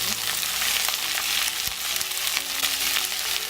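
Onion sautéing in a pan gives a continuous, loud, dense sizzle and crackle from start to finish, steady in level, with faint stirring touches under it.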